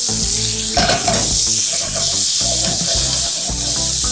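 Onions sizzle and caramelize in a pan over medium heat, a loud, close, continuous frying hiss broken by repeated scraping and stirring strokes of a utensil across the pan.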